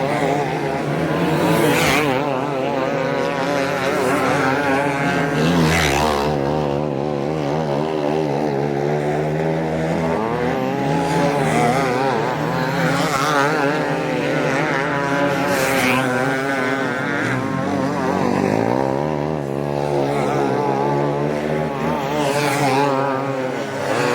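Race cars lapping a dirt track during a hot lap session before the feature, with loud, continuous engine roar and repeated rising and falling passes close by, no talk.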